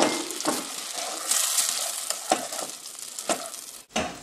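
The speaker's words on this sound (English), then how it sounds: "It starts sizzling, which is always a good sign." Light brown and caster sugar sizzle in a frying pan while being stirred, a bright crackling hiss with several sharp scraping strokes of the spoon across the pan, moderately loud and without speech.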